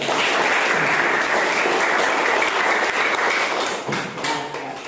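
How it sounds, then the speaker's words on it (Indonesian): A class of students bursts into steady applause, dense and sustained, easing slightly toward the end. "Kasih aplaus dulu"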